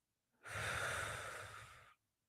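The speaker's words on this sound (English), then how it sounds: "I mean, breathing hard." One long, heavy breath rushes out close to the microphone, rising quickly and fading over about a second and a half, with quiet before and after.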